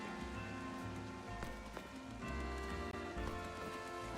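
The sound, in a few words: rain falling in a video game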